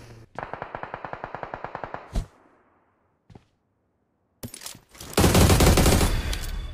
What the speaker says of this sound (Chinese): 刚才扫车把 AUG 的子弹扫空了